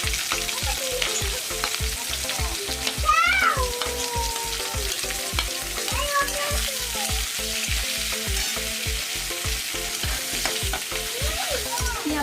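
Onion fries in hot oil tempered with dried red chilli, bay leaf, cardamom, cloves and cinnamon, giving a steady loud sizzle. Brisk, evenly spaced scrapes of stirring run throughout, up close.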